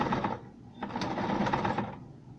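A sewing machine stitching a straight seam on a fall decor project, a buzzing mechanical whir that runs in short bursts with brief pauses, fairly close and moderately quiet.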